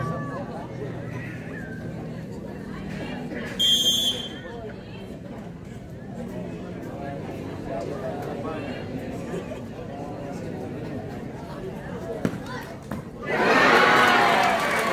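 A crowd of spectators at a mini-goal football penalty shootout chatters and murmurs under an announcer's voice, then bursts into a loud cheer near the end.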